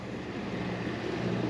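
A sailboat's single engine runs steadily at sea in calm, windless conditions, a continuous low droning rumble with water and wind noise mixed in, no voices.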